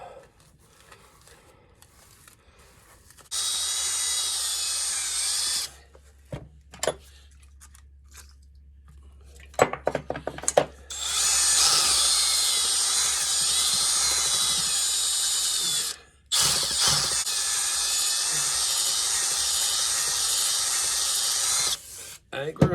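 A power drill running in reverse on a bolt during a hydraulic clutch repair whirs in several loud, sustained bursts, with short gaps and a few clanks in between.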